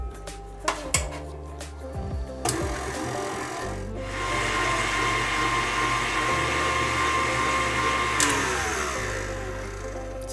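Brownie batter being mixed with added milk, a steady whirring of an electric mixer running for several seconds after some clinks of utensils against the bowl.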